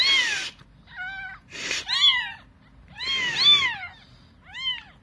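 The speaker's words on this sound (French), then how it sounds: "Et ils miaulent pratiquement pas. Et ces deux-là, ils arrêtent pas." Rescued orphaned wild kittens meow repeatedly, with several high, insistent mewling cries in bursts, close and fairly loud, with short pauses between calls.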